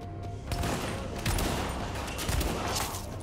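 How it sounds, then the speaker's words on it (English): Gunfire from a sniper rifle in the video game Tom Clancy's The Division comes as repeated, dense shots over a continuous, noisy game soundscape, moderately loud throughout. "This is more of like a sniper rifle, it looks like."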